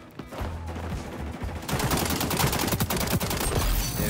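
Gunfire in the shooter game XDefiant: a rapid burst of automatic shots, loud and dense, then a steady barrage of closely spaced reports with no talk.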